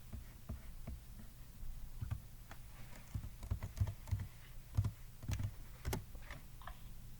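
Fingers tapping a computer keyboard in quick, uneven bursts of faint clicks over a low steady hum, with no talking.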